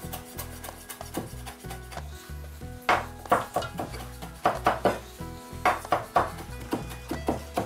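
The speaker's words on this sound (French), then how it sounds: "L'estragon est haché" Tarragon chopped with a knife on a board: rapid rhythmic taps in quick bursts, growing denser and sharper over the second half, close and clear with no speech.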